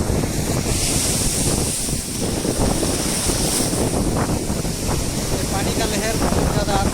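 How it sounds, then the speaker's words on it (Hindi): Water waves roll and crash in a continuous loud roar, mixed with heavy gusting wind noise and no clear voices. "पानी का लहर बहुत ज़्यादा"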